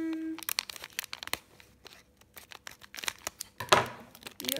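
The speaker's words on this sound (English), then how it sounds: "You got some dodgy scissors there." Crisp snipping and crinkling as scissors cut toy packaging, a run of short irregular cuts and rustles close by, with a louder tearing crunch near the end.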